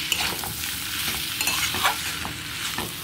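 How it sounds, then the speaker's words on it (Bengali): Rohu fish head being stirred and turned in a pan of frying masala, with a steady close sizzle and repeated scraping strokes of a spoon against the pan, no voices. "মাছের মাথাটা দিয়ে খুব ভালো করে নেড়ে চেড়ে দিয়ে দেবো"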